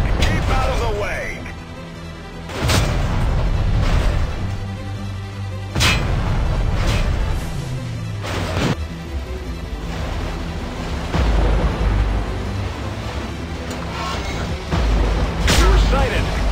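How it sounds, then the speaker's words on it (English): Tank cannon fire and explosions in the Modern Tanks video game: several sharp booms and crashes over mechanical rumble, close and loud, with a voice talking between shots. "We are under gunfire."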